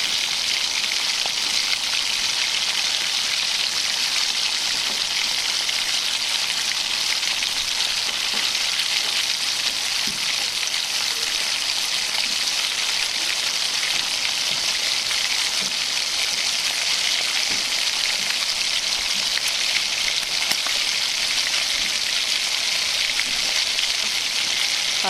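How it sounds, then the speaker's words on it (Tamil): Ragi flour dough frying in hot oil, a dense, steady bubbling sizzle that runs loud and unbroken throughout with no voices. "பாருங்கள் எண்ணெயில் போட்டாச்சு. நல்லா பபிள்ஸ் வர ஆரம்பிச்சிருச்சு."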